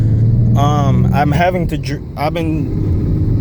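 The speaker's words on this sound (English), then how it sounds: "So I'm currently driving my car right now back to the dealership" A Ford Mustang with a clutch fault, feeling as if a brake is stuck, rumbles with a steady low engine drone from inside the cabin while someone talks over it.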